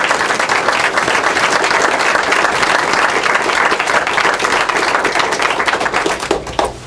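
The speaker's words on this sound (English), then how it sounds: "a big round of applause for all those folks who made this thing happen" An audience at a literacy network grand opening applauds the donors with loud, steady, close clapping that lasts several seconds before tapering at the end.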